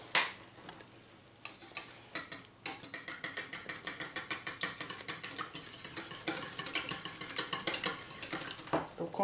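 Whisking a raw egg in a bowl for a cheese sauce in a Cookeo: quick rhythmic clinks of a utensil against the bowl, steady and close, alone without talk.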